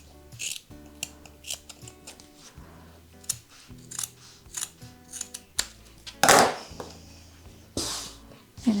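Scissors cutting through fabric pieces for a vintage-style bag, close-up snips in an irregular series, with a louder rough rasp of blades through cloth near the end.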